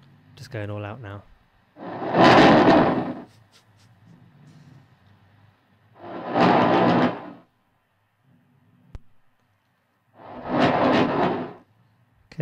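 A single guitar note runs through a Chase Bliss Generation Loss pedal, then three loud, separate bursts of hiss swamp the signal, with quiet gaps between them.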